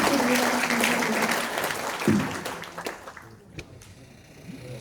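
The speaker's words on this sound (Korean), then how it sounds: "큰 박수 부탁드립니다." Audience applause at a Korean local-autonomy ceremony, a dense burst of clapping that fades out over a few seconds, with a brief voice near the start.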